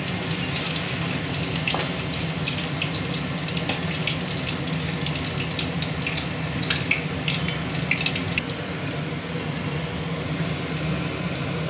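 Chopped tomato and onion fry in a pan for prawn khichdi, giving a steady, close, moderately loud hiss with light crackles throughout and no talking.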